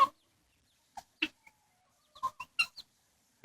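A backyard rooster gives a scattering of soft, irregular clucks and short calls, close by and alone in a quiet setting.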